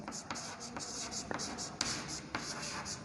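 Marker or chalk writing on a classroom board, a series of quick scratchy strokes in an irregular rhythm, fairly quiet over a low background hum.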